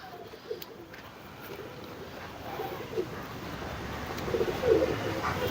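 Regdar breed pigeons in a loft, a male and female pair, cooing softly and repeatedly under a low steady background hum, with occasional faint rustles and no talking.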